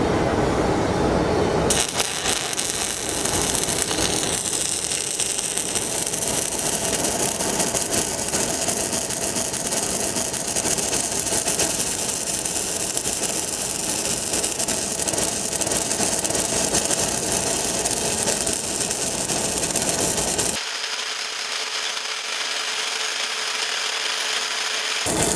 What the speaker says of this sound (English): we're going to do ADR with the 5/32 electrode here in the root pass